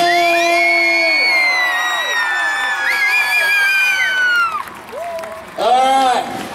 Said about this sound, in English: Round of applause, Michael Chuck